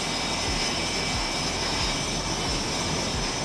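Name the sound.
jet engines of aircraft carrier jets during run-ups and tests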